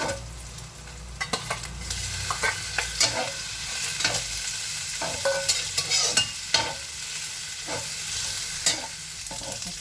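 Shrimp and minced pork fry in a pan for a Korean rice cake dish, giving a steady close sizzle broken by repeated sharp scrapes and clinks as the spatula stirs, with no talking.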